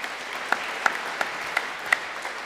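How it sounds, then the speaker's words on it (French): Applause for an award speaker at an energy-transition trophy ceremony: a soft, diffuse patter of hands with a few sharper individual claps standing out, moderately distant. "On applaudit Hervé Dumoulin."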